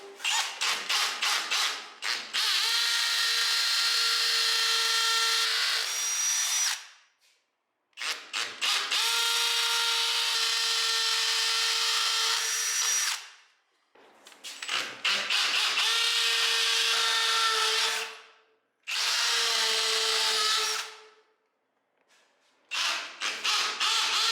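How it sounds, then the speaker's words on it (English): A power drill whirs in four long bursts, each several seconds, with short pauses between, its pitch dropping as it bites into the material, drilling holes for a curtain rail. "here we're going to drill our holes."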